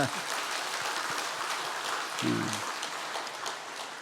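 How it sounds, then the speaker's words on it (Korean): A church congregation at a Sunday worship service claps in soft, diffuse applause heard from a distance, quiet and rain-like, with a brief low tone briefly rising partway through. "우리 축하의 박수 한번 드립시다."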